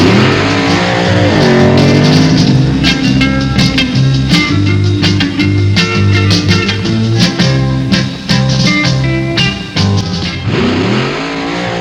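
Funny car drag racing, a Mercury Cyclone Comet against a Dodge, with loud roaring engines revving and sweeping in pitch under the run, crackling bursts punctuating the harsh mechanical drone.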